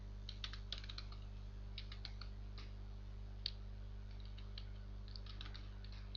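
Quick bursts of keystrokes on a computer keyboard while a username is entered, faint light clicking in short clusters over a steady low electrical hum.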